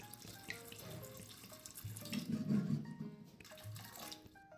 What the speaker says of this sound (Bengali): দিয়ে দেবো ছোলার মধ্যে জল।